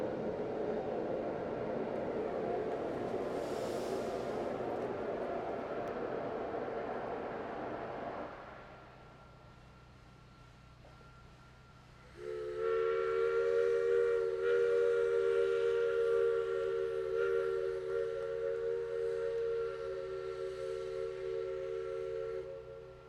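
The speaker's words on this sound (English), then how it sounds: "As Shay number 1, the Dixiana, moves out of the engine house" Shay geared steam locomotive No. 1 pulling out of an engine house at a railroad steam festival: a steady low rumble, a pause of near quiet, then a loud, sustained multi-tone steam whistle with chuffing and hiss beneath.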